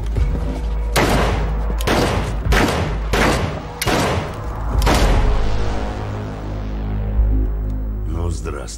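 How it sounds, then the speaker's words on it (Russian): A rapid series of loud, booming gunshots from the game She Sees Red, about six sharp blasts in a row with echoing tails, followed by fading reverberation and a faint rattle. "Он может выстрелить через дверь."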